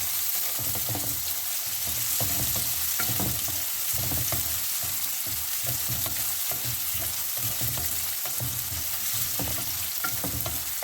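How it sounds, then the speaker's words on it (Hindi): Onions sizzle and fry with peanuts in a hot pan, a steady loud crackle with rhythmic stirring scrapes repeating throughout. "इस प्याज को थोड़ा सा रोस्ट करूँगी।"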